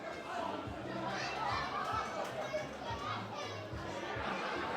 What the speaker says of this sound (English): Big crowd here today.